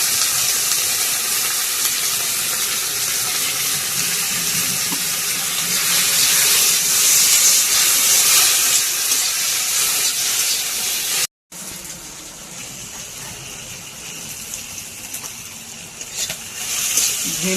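Okra fries in a smoking pan with a loud, continuous broadband hiss and crackle. The sizzle is steady and close throughout, with a brief dropout partway through.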